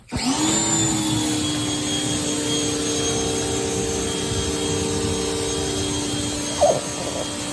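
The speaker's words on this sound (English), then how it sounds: "we picked up this air compressor. It is quiet." An air compressor, noted as quiet, runs steadily in an engine bay during an Audi A5 engine cleaning, with a constant mid-level motor hum and whine throughout and a brief clatter near the end.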